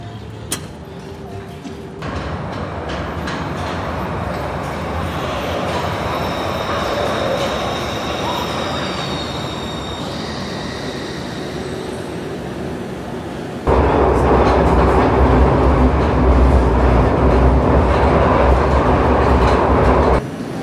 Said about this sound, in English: We're now back on the Glasgow subway.